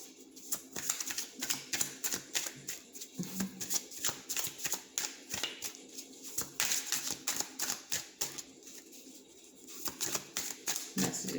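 A tarot card deck is shuffled close up, with rapid papery riffles and flicks arriving in quick bursts and short pauses between them.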